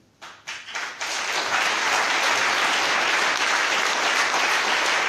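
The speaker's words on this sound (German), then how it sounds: "Applaus" An audience at a socialist conference breaks into applause after a speech, a few scattered claps swelling within a second into sustained, dense clapping from a large crowd.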